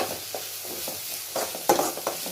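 Curry leaves go into hot oil with onions in a pan for North Karnataka-style raw mango chutney, giving a soft sizzle with scattered crackles and the scrape of stirring, close by and without speech.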